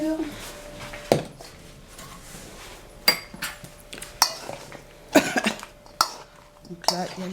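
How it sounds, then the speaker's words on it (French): Potato and endive salad being mixed in a bowl: utensils knock and clink against the dish in irregular bursts, with a cough and faint voices around the clattering. "Après, on va mélanger Le tout."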